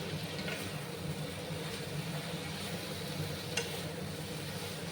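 Drumstick (sajna) curry being stirred and fried in a pan for a Bengali recipe, a steady soft sizzle with faint scraping, low and continuous throughout.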